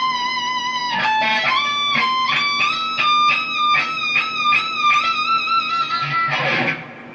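Distorted electric guitar plays the closing phrase of a solo, with repeated picked notes and bends over a steady sustained tone, loud and close, ending in a brief flurry.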